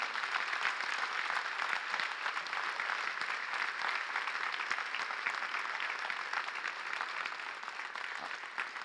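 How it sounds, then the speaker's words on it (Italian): A crowd at an open-air political rally in Foligno, Italy, for mayoral candidate Stefano Zuccarini applauds with dense, continuous clapping that holds steady at a distance for several seconds. "farei veramente un grande"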